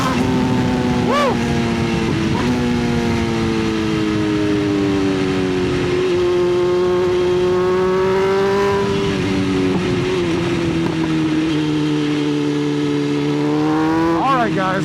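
A motorcycle rides along the road, its engine droning steadily throughout with pitch rising and falling as it shifts and accelerates, loud and close, with wind rush underneath.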